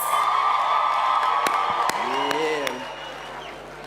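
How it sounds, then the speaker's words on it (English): A graduation ceremony audience applauds and cheers in a hall, a dense wash of clapping and whoops that fades slightly toward the end, with a voice calling out briefly. "Give yourselves a round of applause"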